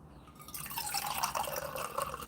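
Fluoride-free bore water pours steadily into a pot for tea, a continuous splashing rush close by with no talk.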